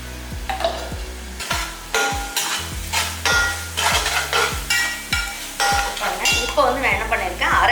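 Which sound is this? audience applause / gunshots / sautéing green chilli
sautéing green chilli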